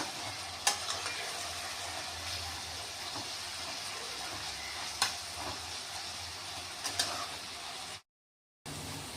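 Poha masala tempering sizzles steadily in a pan, with a spoon stirring and scraping and a few sharp clicks; the sizzle breaks off briefly near the end and then resumes.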